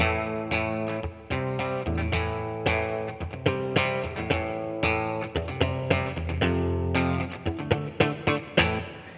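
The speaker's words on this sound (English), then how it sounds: "Here's what a Fender Mustang sounds like in the bridge position. Nothing going on except some reverb." A Fender Mustang electric guitar plays chords and single notes with a bright, twangy bridge-pickup tone and a touch of reverb, strummed in an uneven rhythm.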